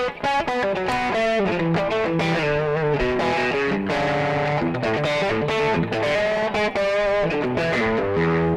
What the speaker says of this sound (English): This is a distortion pedal.